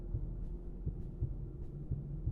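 A heartbeat in a creepy backrooms-style exploration game, soft low thuds pulsing about once a second under a steady dark hum, faint and muffled as if coming from beyond a wall.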